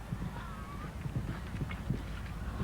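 A horse's hooves drum on the turf of a show-jumping course at a 1993 World Cup qualifier in Busselton, a quick uneven run of close thuds over steady crowd and field ambience.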